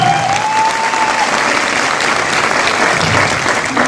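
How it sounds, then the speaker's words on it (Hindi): An audience at a business meeting bursts into steady, loud applause that fills the room, dense clapping holding throughout with a brief whistle near the start. "एक जोरदार क्लैप्स है।"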